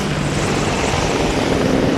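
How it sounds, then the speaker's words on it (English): Helicopters flying overhead, a steady broad rotor and engine roar filling the whole stretch at constant loudness with no voices. "shout out to those helicopters"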